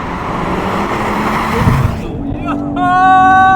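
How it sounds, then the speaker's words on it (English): A BMW M140i with a hybrid turbo spins its wheels in fifth gear: a loud, sustained engine roar with tire squeal, then a rising, tonal screech near the end as a voice shouts. "Whoa! Fifth gear wheel spin!"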